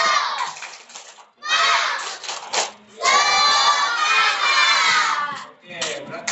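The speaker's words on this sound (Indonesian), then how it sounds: "Tepuk semangat." A class of schoolchildren shouts a 'tepuk semangat' spirit chant in unison, with loud bursts of young voices separated by short pauses, sounding close and crowded.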